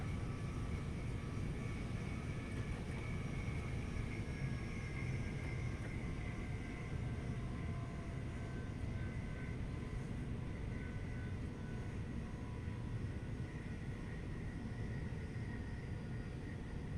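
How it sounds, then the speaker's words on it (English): Steady aeroplane engine drone from aircraft flying over the London Victoria to Brighton line in Train Sim World 2, a continuous broadband rumble with faint tonal whine, moderately loud and unbroken throughout. "The aeroplanes are new as well."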